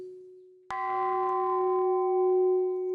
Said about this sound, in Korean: 잠시 후 아침 공양을 알리는 낭낭한 종소리.